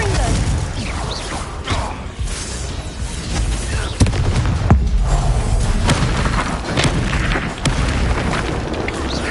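Fire-spell explosions from Hogwarts Legacy, a Confringo blast among booming impacts in a magical duel, with dense rumbling bursts and crashes throughout and voices speaking intermittently over the fight.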